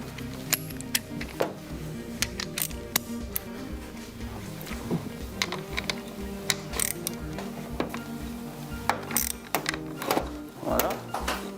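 A ratchet fitted with a 15 mm socket turning on a bicycle suspension fork cartridge, giving steady mechanical clicking and clunks, with someone speaking French in the background.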